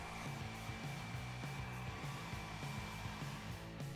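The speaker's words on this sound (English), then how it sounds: "I go ahead and lock that in with a hairdryer." Steady, close whirring drone of a hairdryer blowing over wet paint splatters on painted wings, with a faint fluttering motor rumble underneath, running continuously and alone.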